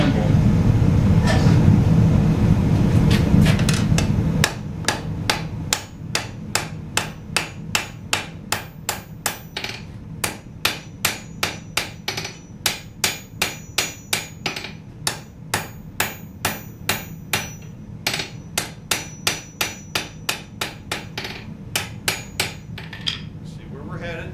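Hammer forging a knife blade on an anvil: a steady run of several dozen sharp metallic ringing blows at an even pace, close and loud, after a few seconds of louder low rumble.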